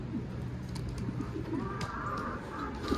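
Sarı Çakçıllı pigeons coo softly in a loft, low repeated murmuring calls close by under a steady background hum.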